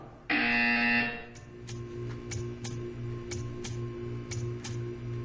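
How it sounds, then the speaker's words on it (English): A loud, harsh electronic buzzer in the video game Portal 2 sounds for about a second, then gives way to a steady ticking pulse and faint clicks. "You will hear a buzzer."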